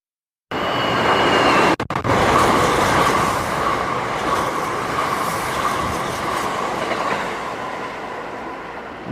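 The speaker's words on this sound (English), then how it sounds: "I just heard an announcement that a train's passing by." A fast train roars through a station near Yokohama, loud and close from start to finish, with rumbling wheels and steady clatter that fades slightly toward the end, broken by two sharp brief dropouts early on.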